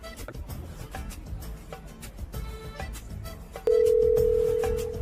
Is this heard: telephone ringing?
yes